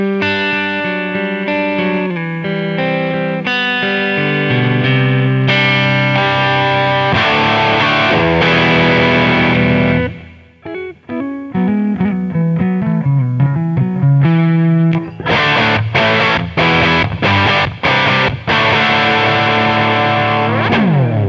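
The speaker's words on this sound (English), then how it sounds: "So now let me put on some delay and reverb" A loud distorted electric guitar plays through an amplifier with delay and reverb, sustained chords and then choppy repeated notes with echoes trailing after each, filling the whole stretch with no talking.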